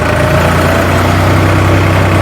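A tractor's diesel engine idles loud and close with a steady, deep rumble that holds an even throb throughout.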